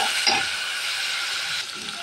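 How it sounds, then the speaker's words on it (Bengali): Shrimp frying in a pan after onions have browned gives a steady, loud broadband sizzle that holds evenly throughout, with a brief thump near the start and a slight dip toward the end; no one speaks. "চিংড়ি মাছটা ঢেলে দিলাম। এখন একটু"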